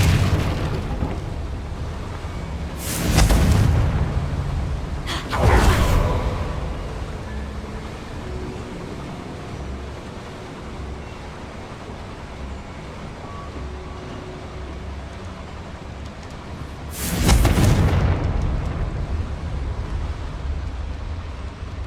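Three heavy booming blasts from a Confringo fire spell in Hogwarts Legacy on PS5, each a loud broadband burst with a rumbling tail, spaced several seconds apart over a steady game-ambience bed.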